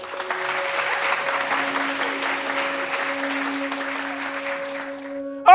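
An audience claps steadily to make an antique lantern in a collection run faster, a sustained crowd of hands with faint tonal hums underneath, ending in a sudden louder burst.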